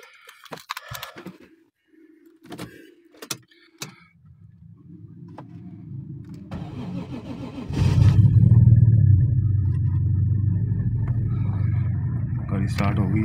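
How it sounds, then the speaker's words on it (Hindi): A Mazda RX8 starts up inside a closed car after some door and cabin clicks. The rotary engine then settles into a steady, fairly loud idle that holds through the rest of the clip. "गाड़ी स्टार्ट हो गई है और आरपीएम देखें एक से भी नीचे है"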